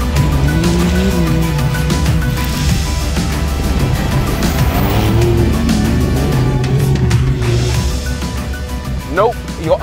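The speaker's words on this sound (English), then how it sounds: "This is a 911 being driven off-road in the desert." A Porsche 911 Dakar driving off-road across desert terrain, its engine droning steadily with shifting pitch and tire noise throughout, loud and close, with music and voices mixed in.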